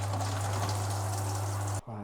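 Shower water pouring steadily into a bucket, a loud continuous rushing hiss with a low hum, cut off abruptly near the end as the flow changes.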